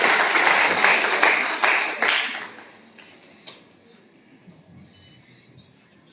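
An audience at a political rally gives a burst of applause, with dense clapping for about two seconds that quickly thins into scattered claps and background murmur.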